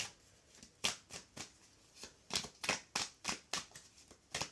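Tarot cards are shuffled by hand in a quiet room: a series of crisp, riffling flutters and soft slaps arriving in irregular bursts, close and fairly faint, with no voices.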